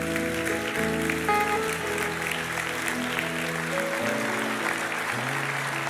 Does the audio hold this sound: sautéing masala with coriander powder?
no